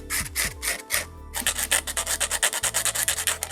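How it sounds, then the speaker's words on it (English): A blade scrapes across watercolor paint on paper in a Lake Louise landscape painting, a series of short rhythmic rasping strokes, close and fairly soft, speeding into quick repeated scratches. "Scraping right in to create a textured, irregular, sparkly surface."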